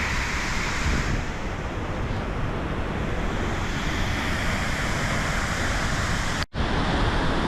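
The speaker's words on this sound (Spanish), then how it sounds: "Acá estoy abajo de la cascada, en el mirador" A constant heavy roar of rushing water, dense and close, from beneath Pulhapanzak waterfall in Honduras at the viewpoint, with spray falling like rain and a brief cut near the end.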